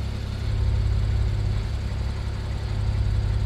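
Porsche Turbo S in sport mode idling, giving a steady, deep exhaust rumble with a low, even throb that stays close and constant throughout, with no voices over it.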